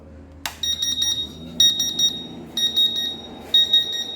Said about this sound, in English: Buzzer is noising because of the water through this sensor